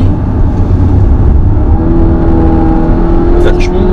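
A 2015 Volvo XC90 T8 400 hp hybrid in Inscription trim drives along a small road into a bend, giving a steady engine and road hum with tyre noise, close and continuous, while people talk over it.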